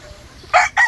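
Gamefowl rooster crowing at a game farm, a short, loud, close crow in two bursts over a quiet outdoor background.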